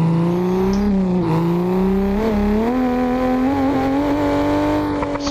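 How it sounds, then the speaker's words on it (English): A race car in the Assetto Corsa racing game drives with a steady, loud engine drone. Its pitch rises and falls slightly with throttle and runs continuously through the whole stretch, with no talking over it. "Wow, this is a nice car. This one drives really fun."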